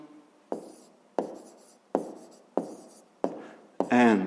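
Pen writing a fifth-grade math solution by hand on paper: six sharp strokes at a steady rhythm, close and fairly quiet, with no talking.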